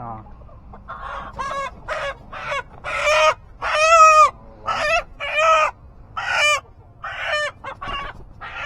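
Native country chickens cluck and squawk close by in a string of separate, pitched calls, some drawn out, over a quiet background hum.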